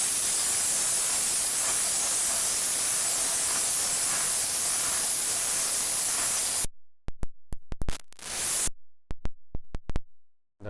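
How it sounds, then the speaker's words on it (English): A steam cleaner blasts a gemstone faceting polishing lap with a loud, steady hiss for several seconds, then cuts off into silence broken by a few short spurts and clicks. "I just go to the steamer if you have a steamer available"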